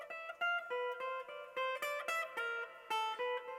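Guitar picking a stepwise scale sequence, notes plucked one at a time in an even, quick rhythm, close and clear with no talk.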